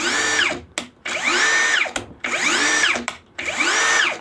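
An ELTOS 20 13 UBL cordless drill runs in four short bursts, each spinning up to speed with a high whine and winding down, separated by brief pauses; close and loud, with no talk.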